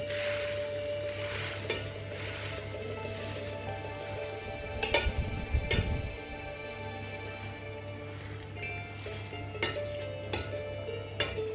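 A rösti potato cake fries in a pan with a quiet, steady sizzle, broken by a few clinks of a utensil and a brief louder scrape partway through.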